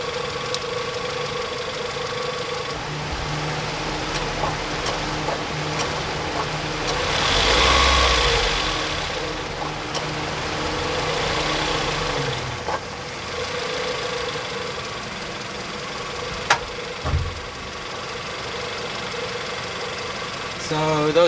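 A Honda CR-V engine, a JDM junkyard find with a check engine light on, idles steadily up close, with a brief swell in its hum partway through and a few faint clicks as the AC is switched on and off.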